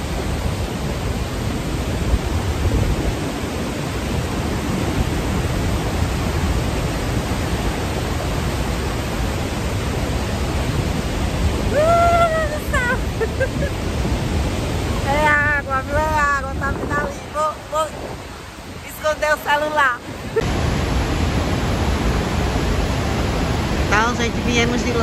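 Iguaçu Falls on the Brazil–Argentina border sends up a constant loud roar of falling water and drenching spray, with wind buffeting the microphone and excited voices breaking through near the end.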